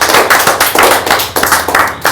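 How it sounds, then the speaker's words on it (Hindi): Seminar audience clapping loudly for guests in a close, hard-hitting burst. Sharp, rhythmic claps land in quick succession about every quarter second, loud and near, with no talking. "ये हमारे मेहमान, एक बार जोरदार तालियां इनको होना चाहिए।"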